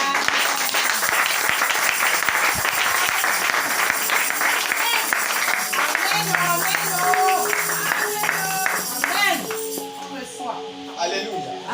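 A congregation claps and applauds to acclaim the Lord, a loud dense crowd sound that gradually fades, with voices speaking and calling out through it.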